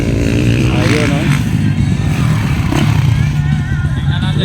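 Motocross motorcycles race toward the checkered flag at an expert-class final, engines droning loud and continuous with a passing rev rise, while an excited announcer talks over the noise.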